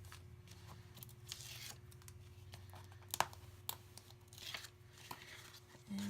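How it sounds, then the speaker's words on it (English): Tape is peeled off paper for a handmade mini album, giving a few short, quiet tearing and crinkling strips close up in a quiet room. "And I'm going to pull the tape off."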